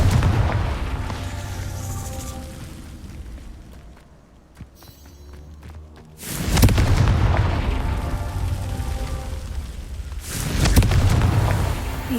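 A Confringo fire-blast spell in the Hogwarts Legacy video game: sudden loud booming detonations, one around six seconds and another near ten, each with a rumbling tail, over a busy background of game sound.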